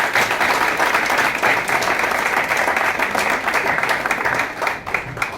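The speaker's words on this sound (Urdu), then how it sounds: "تو آئے بہت بڑی تالیاں ان سب کے لیے" An audience at a welcome address by a chairman breaks into sustained, dense applause that holds steady for several seconds and thins slightly near the end.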